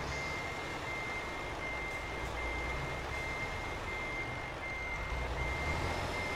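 A truck in Euro Truck Simulator 2 backs up with evenly spaced reversing beeps over a low engine rumble, steady and moderately loud throughout.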